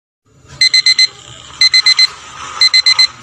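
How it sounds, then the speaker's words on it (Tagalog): An alarm clock rings in a radio drama, three bursts of four rapid, piercing electronic beeps each, evenly spaced and loud against a quiet background. "kanina pa tumutunog yung alarm clock mo."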